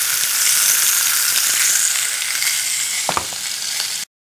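A steak searing in a hot pan gives off a loud, continuous sizzle and crackle close up, with a couple of faint clinks near the end before it cuts off.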